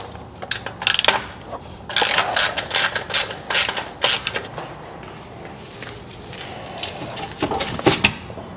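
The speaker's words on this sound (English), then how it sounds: "I'll loosen this so I can slide the muffler off" Ratchet and socket loosening a muffler bolt on a BMW R1200RT motorcycle, heard as bursts of rapid metallic clicking in several separate runs, close and fairly loud, with no talk.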